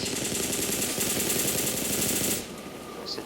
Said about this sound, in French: Ça tire un peu de partout quand même.